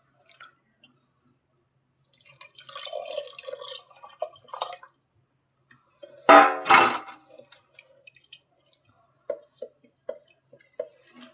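Soaked tamarind water is poured and stirred into a pot of dalcharu, giving a short splashy pour mid-way, soft liquid squishes, and a few light drips and taps near the end, otherwise quiet.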